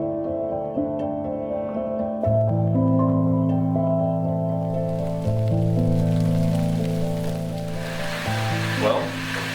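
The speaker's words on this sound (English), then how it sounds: "It's raining out, so found a little shelter" Rain patters on a campsite shelter, with a steady hiss of drops building in the second half under prominent sustained music.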